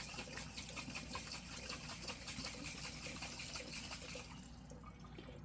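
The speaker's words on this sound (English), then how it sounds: "I put water in there and I just shake it really well." Dry lentils and water slosh and rattle inside a jar being shaken hard, a steady, busy swishing churn that runs continuously and fairly close before easing off near the end.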